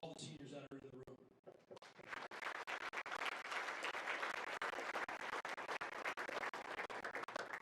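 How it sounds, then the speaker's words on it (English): Audience at a university senior athletic banquet applauding the seniors, a brief voice at the start giving way to loud, sustained clapping that fills the room, with cheers mixed in. "I want to give a huge round of applause again for all the seniors that are in the room."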